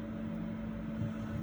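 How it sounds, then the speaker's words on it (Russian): A small electric motor on a heat-shrink tubing cutter runs steadily, giving a constant low hum with a faint tonal whine and no talk. "и крутим мотор"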